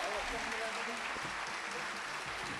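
Audience applause at a Turkish folk music concert sounds as continuous, fairly faint clapping from a crowd, even in level throughout, with a murmur of voices mixed underneath.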